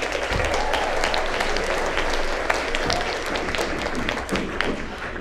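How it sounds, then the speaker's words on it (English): Audience applause at a staged game-show style theatre production, steady dense clapping throughout, fairly loud and close with a few louder individual claps. "Let's give a round of applause for all of Sally's friends!"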